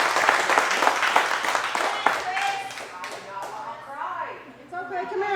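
Audience at a bar protest in Fort Worth breaks into loud, dense applause that gradually thins into scattered claps, with voices and cheers rising over it near the end.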